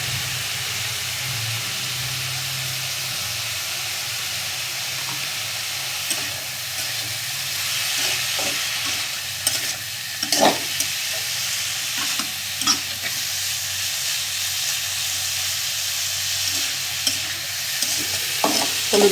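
Snake gourd and onion frying with turmeric in a pan make a steady, close hiss of sizzling oil, broken by scattered scrapes and clicks of a utensil stirring, with no talking.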